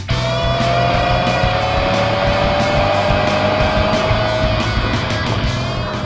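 A 2015 Subaru WRX drives at about 100 mph, with steady, loud engine drone and road and wind roar from inside the cabin and a slowly falling whine, continuous and without talk.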